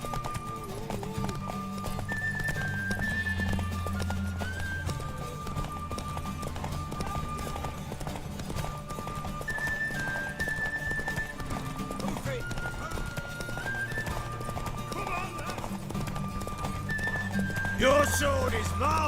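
A horse gallops in a video game, rhythmic clip-clop hoofbeats running under a steady musical score, with an occasional whinny and voices speaking over it.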